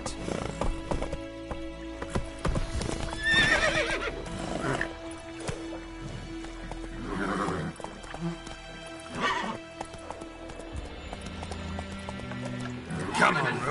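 Roach, the horse in The Witcher 3, gallops with steady clip-clopping hooves and lets out whinnies and snorts along the way, and voices talk over the hoofbeats.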